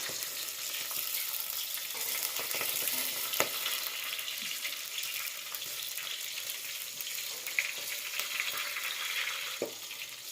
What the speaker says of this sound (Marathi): मिरची भाजून घेते आता